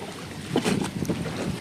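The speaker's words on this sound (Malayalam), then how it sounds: "നമ്മുടെ ബോട്ട് ഇതാ വന്നു കഴിഞ്ഞു" A small eight-seat passenger boat arriving on the water toward Sambranikodi island near Kollam, heard as a rumbling wash of engine and water with buffeting wind noise, fairly close and without talk.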